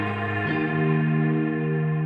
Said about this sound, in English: So the reverb will also be EQ'd with this radio preset.